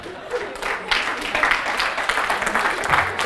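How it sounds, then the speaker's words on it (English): An audience claps in a dense, noisy burst that carries on throughout, with a voice talking over the applause. "Those of you who are clapping, are you clapping because you just described you?"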